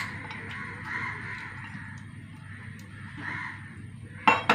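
A single crow caws sharply near the end, a brief harsh call or two against steady low background noise.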